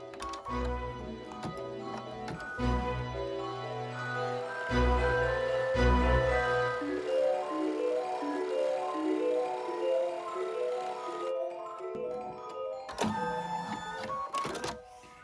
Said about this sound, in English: we're just gonna run the last color change to stitch the stocking shape